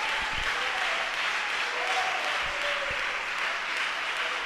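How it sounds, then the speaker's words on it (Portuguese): Church congregation applauding during a sermon, a broad sustained wash of many hands clapping with a few faint voices and cheers rising briefly within it. "Dá uma salva de palmas para Jesus"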